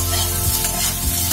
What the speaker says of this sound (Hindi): आलू को भी थोड़ी देर फ्राई करूंगी तो उसका थोड़ा टेस्ट अलग सा लगता है